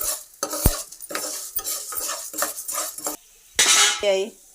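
A utensil stirs cumin and coriander seeds roasting in a pan, giving close, repeated metallic scrapes against the pan in a steady rhythm with a faint sizzle, then a louder scrape toward the end.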